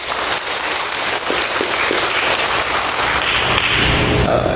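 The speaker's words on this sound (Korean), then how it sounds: "격려의 박수 한번 해주시기 바랍니다." A church congregation applauds the worship team after the music, a steady dense wash of clapping that fills the room for several seconds without pause.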